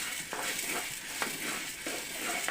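Traditional home-roasted coffee being stirred in a pan after the flame is off, giving a soft continuous sizzling hiss with faint scraping strokes repeating every second or so, fairly quiet and without talk.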